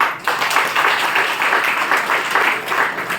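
An audience claps enthusiastically on request, a dense, steady wash of applause filling the room with slight swells in intensity, no talking over it.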